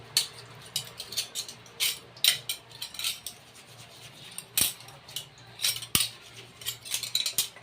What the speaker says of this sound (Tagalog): Maghuhugas muna ako ng mga kutsara, mga pinggan